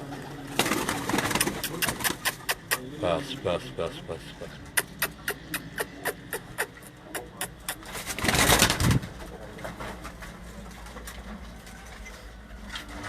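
Pigeons on a Qazi Ahmed, Sindh rooftop, a breed kept by a fancier, with sharp flapping or clattering bursts in quick rhythmic runs, a louder flurry near the end, and people talking and calling over the birds.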